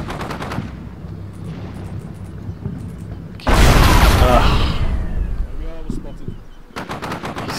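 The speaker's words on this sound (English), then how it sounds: "He's still firing though." Machine gun fire in the video game Combat Mission Shock Force, rapid bursts growing into a loud, dense roar of gunfire and explosions, with a voice talking in the background.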